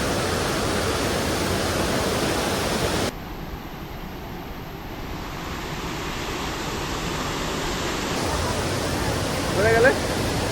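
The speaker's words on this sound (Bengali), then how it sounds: "গাইস চলে আসছি, আমরা চলে আসছি ঝর্ণায়" A waterfall roars as a dense, steady rush of water, loud and close, its tone dulling for several seconds midway before brightening again; a brief voice sounds near the end.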